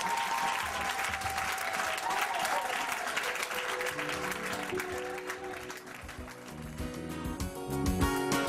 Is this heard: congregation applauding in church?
yes